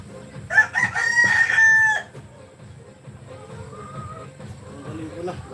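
A rooster crows once, loud and close, then the scene falls back to a quiet background with soft voices and faint clucks.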